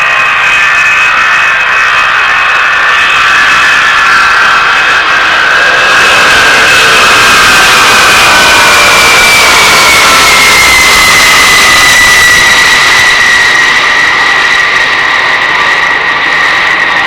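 A C-5 Galaxy jet transport flying a display at the RAF Mildenhall Air Fete 1994, a loud, continuous roar with whining tones that slowly slide lower as it passes.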